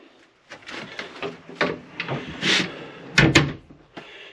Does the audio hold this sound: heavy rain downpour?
no